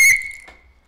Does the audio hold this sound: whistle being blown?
yes